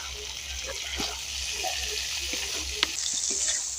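Okra and spices fry in oil in a pan for a Bengali bhindi recipe, giving a steady soft sizzle with scattered small pops and crackles, close and fairly quiet, with no talking.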